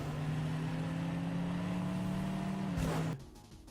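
Shelby GT 500 muscle car engine in the Fortnite video game drones at a steady, loud idle-like hum for about three seconds, then cuts off abruptly, leaving a faint tail of quieter tones.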